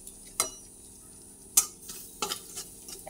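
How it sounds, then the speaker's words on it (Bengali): Bitter gourd and eggplant with turmeric stir-fried in a pan, a spatula scraping and clacking against the metal every second or so over a faint, steady sizzle. "একসঙ্গে নাড়াচাড়া করে ভেজে নিচ্ছি"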